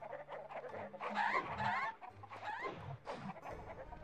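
Chickens on the farm level of the Shrek 2 game cluck and squawk in a lively cluster of close, overlapping bird calls with short pauses between bursts.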